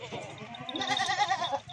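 Goats bleating while they are loaded onto a cargo vehicle, with several wavering, nasal cries close by and overlapping one another over a low background murmur.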